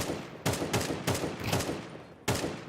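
Rifle shots in the Counter-Strike 2 video game during a BLAST.tv Austin Major qualifier match, several sharp, loud single and paired cracks at irregular intervals over steady game ambience.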